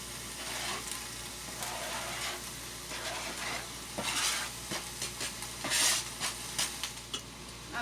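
Chopped onions sauté inside an Instant Pot as a jambalaya base, giving a steady, moderately quiet sizzle broken by a few louder stirring scrapes near the end, with no talking.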